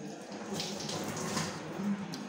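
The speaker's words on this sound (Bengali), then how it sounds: "হাতটা ধুয়ে নি" Tap water runs steadily into a sink while hands are washed, a soft, close, even hiss and splash with no talking.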